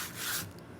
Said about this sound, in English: I'm just taking a little sandpaper because I got a lot of brush marks in here and I kind of want to take those out a little bit.